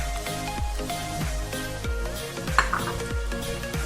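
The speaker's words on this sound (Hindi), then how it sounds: "इनको भी हल्का सा सौटे कर लूंगी।" Garlic, ginger and green chilies sautéing with fried onions in a pan for mutton biryani, a steady sizzle with rhythmic stirring scrapes and a brief metal clink, no voices.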